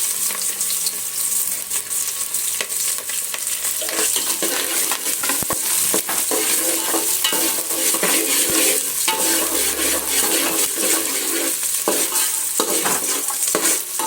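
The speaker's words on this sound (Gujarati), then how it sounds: "આપણે એમાં છે ને લસણ પહેલાં નાખવાનું, આદુ ને થોડું કરી દેવાનું, અને પછી એમાં તરત જ ડુંગળી નાખી દેવાની." Garlic, ginger and onion sautéing in hot oil for a Gujarati crispy chilli potato dish, a steady loud sizzle broken by frequent scraping stirs of the spatula, close and continuous with no talking.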